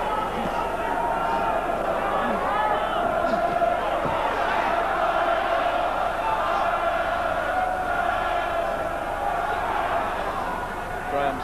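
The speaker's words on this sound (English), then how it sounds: "Nice to see a really big crowd in the old Wembley Arena." Large crowd murmuring at a boxing match in the old Wembley Arena, a broad steady din of many voices with scattered shouts, with a commentator talking over it throughout.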